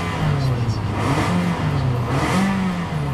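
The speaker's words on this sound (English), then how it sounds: "So it revs up perfectly" A 2007 Toyota Camry SE engine, about 97,000 miles, revs steadily, its low droning pitch rising and falling in waves, close and continuous for a few seconds.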